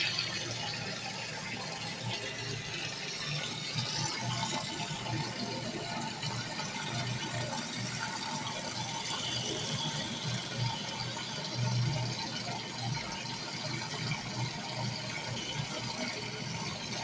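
A toilet cistern refills with water after repair, a steady close hiss and rush of inflowing water lasting the whole stretch with faint mechanical clicks.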